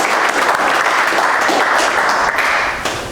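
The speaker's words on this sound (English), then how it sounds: "I just want to maybe give him a round of applause for coming in and welcoming him" An audience gives a guest speaker, a startup co-founder, a loud welcoming round of applause, dense and sustained before tapering off near the end.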